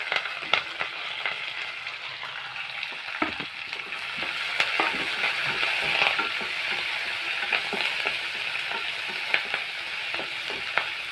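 Onions and curry leaves fry in oil for mango rice, giving a continuous soft sizzle with scattered scraping clicks from stirring, and no talking.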